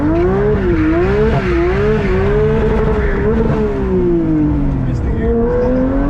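A car engine revs hard with a rising and falling tone, and the pitch jumps and dips where a gear shift is missed, loud and close throughout with tire noise underneath.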